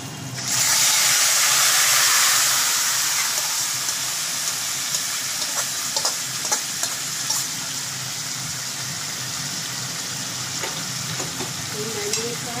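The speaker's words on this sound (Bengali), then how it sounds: "এবার আমি ম্যারিনেট করা মাংসটা দিয়ে দেবো।" Marinated meat drops into a hot pan with whole black peppercorns and bursts into a loud, steady sizzle that gradually settles into a softer frying hiss with occasional crackles, close up.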